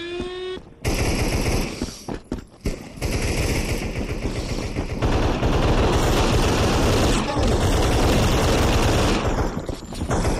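Rapid automatic gunfire in a zombie video game, dense sustained bursts of shots nearly filling the stretch with only brief pauses, loud and close.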